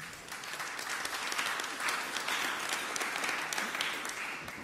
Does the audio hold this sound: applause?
yes